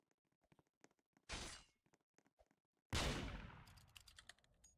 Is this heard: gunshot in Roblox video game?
yes